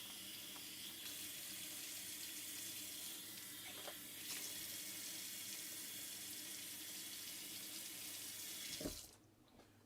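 Water from a kitchen tap runs steadily as a small stainless steel pastry cutter is rinsed beneath it, a close, even splashing that holds for about nine seconds before the flow is shut off abruptly.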